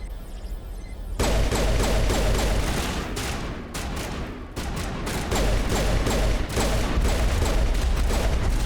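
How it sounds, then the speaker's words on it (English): Dense, loud in-game combat from Mass Effect Legendary Edition on PC, with an enemy firing a rocket amid sustained rapid weapon fire and booming impacts, a continuous barrage after a sudden start. "Oh, that guy's like shooting a rocket or something."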